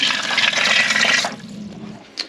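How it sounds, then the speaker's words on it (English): Water gushes from a trailer's outdoor dual faucet in a loud, steady splashing rush for about a second, then drops to a quieter trickle with a brief splash near the end. "And we now have water where we can wash our hands."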